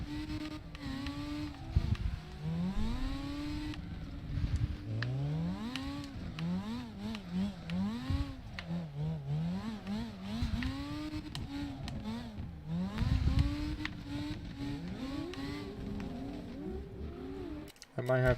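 A car driven in Call of Duty Modern Warfare, its engine pitch climbing and falling through repeated revs and gear changes, loud and continuous, with a voice talking briefly over it.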